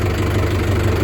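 A tractor engine idles steadily after ploughing, a close, continuous low rumble with an even mid-range drone throughout and no voices.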